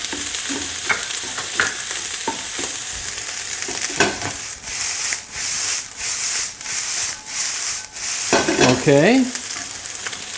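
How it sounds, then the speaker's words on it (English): Chicken fried rice with brown sugar is stirred in a hot pan, a loud, steady close sizzle with scraping strokes of the utensil; a voice speaks briefly near the end. "Let's continue to stir that a bit."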